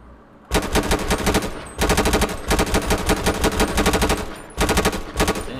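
Modded AR rifle firing in a video game, heard as three long bursts of rapid automatic gunfire with brief gaps between them, loud, dense and close, with no talking.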